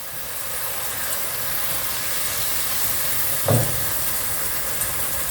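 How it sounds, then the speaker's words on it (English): Tomato puree for rogan josh bubbling and sizzling in a pan, a steady bright hiss with one louder pop partway through, close and continuous. "we put in our tomato puree and let that bubble away"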